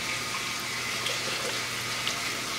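Maple sap pouring into a container, a steady, close splashing trickle of liquid that runs continuously for a few seconds without talk.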